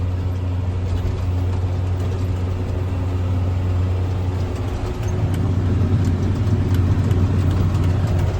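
A tractor engine drones steadily while cutting hay in a field, a constant low rumble with a deeper, louder load in the second half, heard from inside the cab with no talking.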